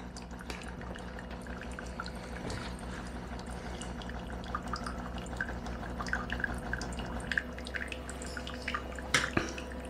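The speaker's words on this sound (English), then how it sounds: "press on that drop button, and it will pour some water out through it." Hot water pouring through the filter of a De'Longhi La Specialista EC9335R espresso machine during warm-up, a steady trickling patter over the machine's constant pump hum, with louder drips and splashes near the end.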